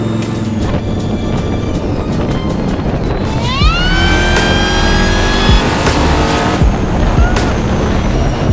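A 1200 hp Volvo roars at high revs during a burnout, its engine pitch sweeping upward over a sustained, loud tire squeal, heard up close.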